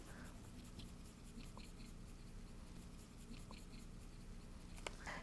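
Brush pen lettering on paper, heard as soft, faint scratchy strokes in a quiet room, with a few brief, slightly sharper scrapes near the end.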